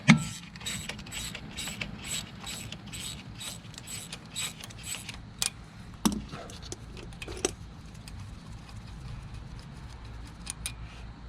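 A wrench loosens a 10 mm fitting on a Kubota tractor fuel filter, giving close, fast metallic ratcheting clicks in a steady run, then scattered sharper clinks and taps against a quiet background.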